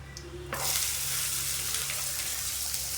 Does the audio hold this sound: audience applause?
no